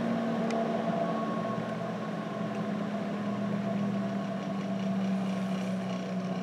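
Blower on a Labconco multi-hazard glovebox running as a steady droning hum with a strong low tone, continuous and fairly quiet, with no talking.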